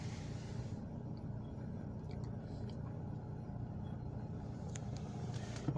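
A BMW car engine idles with a shaking, uneven running condition, producing a faint, steady low rumble that holds constant throughout.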